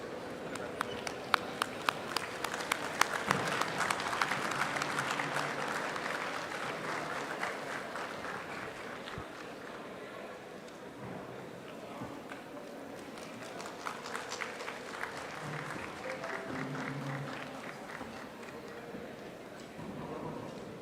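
Sustained audience applause at the inaugural session of a national conference and symposium on mediation, welcoming arriving dignitaries; dense, steady clapping from a crowd holding for the full stretch, with faint murmuring beneath.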